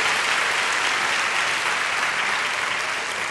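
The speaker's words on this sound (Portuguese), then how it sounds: "Quer dar um aplauso?" Church congregation at a Sunday service breaking into loud, dense applause, a continuous wash of many hands clapping close by with no talking.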